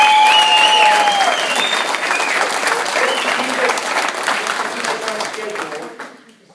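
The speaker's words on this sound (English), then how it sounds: "thundering applause, whistles, horns, and confetti from the ceiling" Loud, dense applause at a class of 1964 fiftieth reunion in Bryan, Ohio, with a few whistles cutting through the clapping crowd before it thins and fades out near the end.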